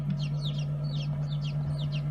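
Newly hatched bantam chicks peep in quick, high chirps, several short calls repeating in bursts over a steady low hum, close by and fairly faint, with no voices.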